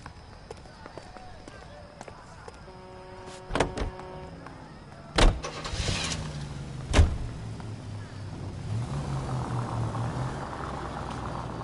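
A car engine in the L.A. Noire game, a detective's private sled, starts up and idles low and steady toward the end, preceded by door thumps and clicks in a street scene.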